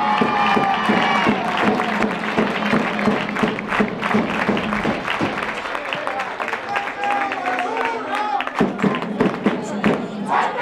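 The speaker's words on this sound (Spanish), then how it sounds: "Un fuerte aplauso." Loud crowd applause with cheering and scattered thumps at a sports event, clapping continuous throughout as voices shout and murmur underneath.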